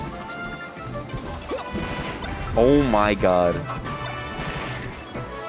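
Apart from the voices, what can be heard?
forward smash attack hits in Super Smash Bros. Melee video game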